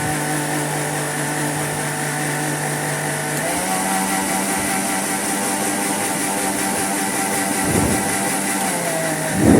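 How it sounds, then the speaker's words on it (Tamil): Countertop blender whirring steadily as it blends cold coffee with Dark Fantasy biscuits, a loud continuous motor drone that shifts pitch slightly partway through and ends with a brief clatter. "இப்போ இதை நான் நல்லா பிளெண்ட் பண்ணிடலாம்"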